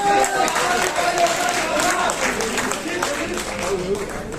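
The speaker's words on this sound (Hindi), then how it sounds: "इसके लिए ताली बजाइए आप।" An audience at a nazm and poetry recital gives sustained clapping as a steady wash of applause, with a voice speaking over it the whole time.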